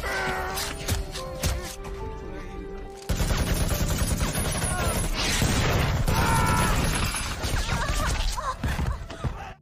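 Gunfire erupts in a film battle scene as an assault team attacks to free hostages, loud dense bursts after a quieter opening with music, continuing steadily with crashes and mechanical clatter.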